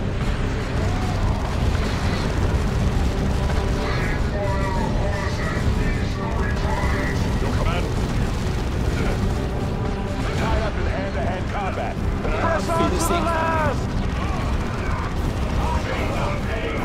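A Space Marine squad opening fire in Warhammer 40,000: Dawn of War 2 Chaos Rising, with dense continuous gunfire, booms and crashes in a loud battle din and voices speaking over it.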